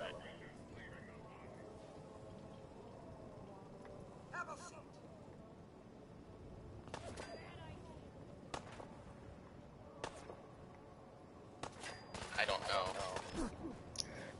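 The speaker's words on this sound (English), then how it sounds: "Why is Mr. Gutsy shooting me?" Sharp bursts of gunfire from a Mr. Gutsy army robot in a Fallout-style wasteland video game, scattered shots growing denser near the end, heard under a player talking.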